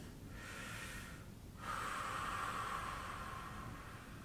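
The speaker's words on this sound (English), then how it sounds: "From there, we're going to breathe." Slow, deep breathing during a sternocleidomastoid neck stretch: a long airy inhale, a brief pause, then a longer, louder exhale close to the microphone.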